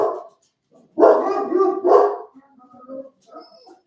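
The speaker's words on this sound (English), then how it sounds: "There's a loose dog, and my dogs are losing their mind." Dogs bark in a short, loud burst of several overlapping barks, reacting to a loose dog nearby, then fade to a few softer whimpers and yips.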